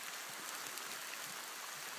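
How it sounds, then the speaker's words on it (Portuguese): Rain pours down steadily outdoors, a dense, even hiss with no pauses and no voices. "Nesse momento chove bastante aqui na agulha."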